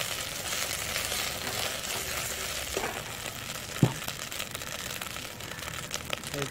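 Kang kung fries with garlic in a pan, giving a steady, moderate crackling sizzle close by, with a brief scrape or clink from a utensil partway through.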